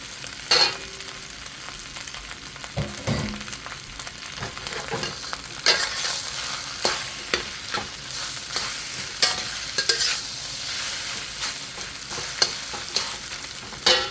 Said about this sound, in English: Then we'll add the string beans.